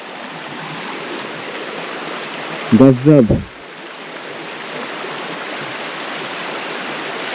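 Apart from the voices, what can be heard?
river flowing down from above in a jungle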